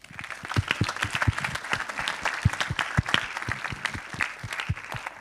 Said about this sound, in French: je pense qu'on peut encore les applaudir